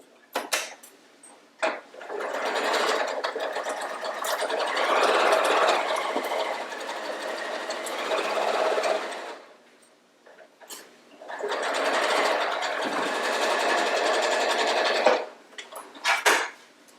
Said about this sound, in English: Let's go sew it.